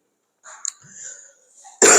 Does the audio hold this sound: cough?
yes